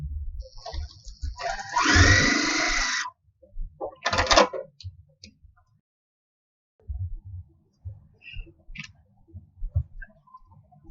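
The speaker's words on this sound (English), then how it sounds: "I'm going to nest these seams to make sure they line up really well, and then just sew down the side." A sewing machine stitches the seams of a quilt block in short bursts of rapid mechanical clicking and whirring, with pauses between runs and a faint hum under quiet handling noises.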